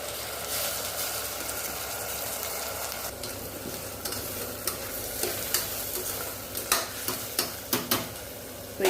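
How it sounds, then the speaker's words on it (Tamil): Basmati rice frying with softened onions and curry leaves in a pan for ghee rice, a steady loud sizzle with stirring, then sharper spoon scrapes and taps becoming more frequent toward the end. "இப்போது நம்ம எடுத்து வச்ச ரெண்டு கப் பாஸ்மதி ரைஸை சேர்த்துக்கலாம்"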